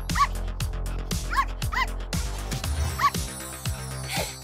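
A small cartoon dog in a Barbie show yips and barks in quick, bright bursts, several sharp repeated calls over a background music bed with a faint voice.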